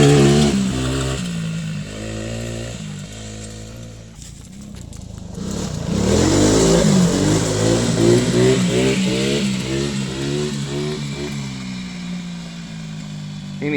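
A Tao Tao 125cc quad engine revs hard at full throttle, a loud buzzing drone that climbs and wavers in repeated pitch sweeps after a brief dip, with no talking.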